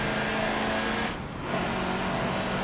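A Mercedes-Benz racing truck on racing tyres during a hot lap in Forza Motorsport 7, the engine droning loud and steady with a brief dip as it shifts, no talk.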